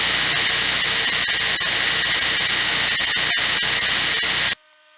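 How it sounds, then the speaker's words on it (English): A belt grinder grinds bevels into a knife blade, giving off a loud, steady abrasive hiss with small irregular ticks before it stops abruptly near the end. "get to the grinder and get to grinding in some bevels"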